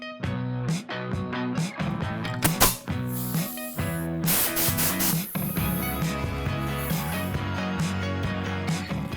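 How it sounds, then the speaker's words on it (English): Spray adhesive is applied to pieces of an E90 BMW sun visor being recovered, making short, close bursts of hissing spray over a steady tonal background hum. "I'm going to start to spray the glue on all these pieces"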